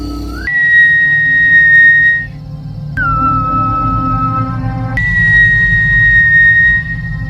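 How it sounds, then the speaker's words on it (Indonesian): Whistling from villagers that signals a death in the village: three long, sustained, clear whistled tones, each held steadily for about two seconds, with short gaps between them over a low background rumble. "ia pun heran saat mendengar suara siulan yang mirip dengan lagu pemanggilan alien"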